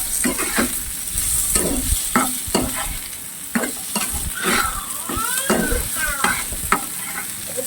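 Ginger garlic paste frying with potatoes in a pan, a loud close sizzle broken by repeated scraping strokes of a spatula at an irregular pace.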